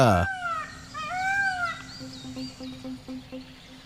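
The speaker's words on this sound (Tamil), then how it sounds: "ஆண் மயில் பெண் மயிலை கவர்றதுக்காக உண்டாக்குற சத்தம் அது." A male peacock calls in a Bengal forest in India: a loud opening burst, then several drawn-out rising and falling tonal cries, and finally a run of short, evenly spaced repeated notes, clear and fairly close.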